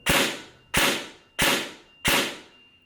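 MARKX Scythe Apache airsoft gun on an 11-volt battery firing four sharp semi-auto shots, evenly spaced about two-thirds of a second apart, each a crisp close snap with a short hissing tail.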